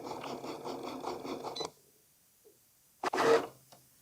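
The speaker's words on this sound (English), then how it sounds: "once your go button starts flashing, you can go ahead and press it and let your Cricut do its thing" A Cricut cutting machine works through cardstock with a steady, rhythmic mechanical whirring and ticking for about a second and a half, then stops; after a silence a short, louder clunk follows, with no voices.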